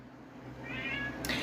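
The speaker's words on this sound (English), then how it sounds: "I apologize for my cat." A house cat meows in a quiet indoor room, a single drawn-out cry that swells near the end, fairly close and alone with no talk over it.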